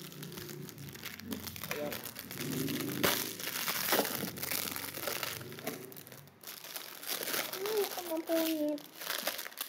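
Plastic packaging crinkles and crushes as a Nuestra Señora de la Regla statue is unboxed, with rustling bursts throughout and a person talking over it at close range.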